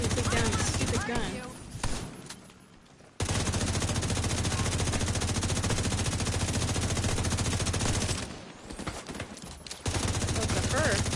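Sustained rapid automatic gunfire from a gun turret in The Division 2, loud and dense, filling most of the clip with brief breaks, heard under a player's voice chat.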